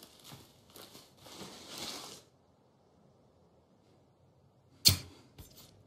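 An arrow loosed from a handmade bow at a deer in a survival setting gives one sharp, loud snap with a brief thud after it, following earlier rustling movement and a quiet pause.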